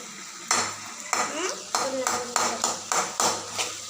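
Food is stirred in a pan with a spoon, making a rhythmic series of about seven distinct scraping strokes, close and moderately loud.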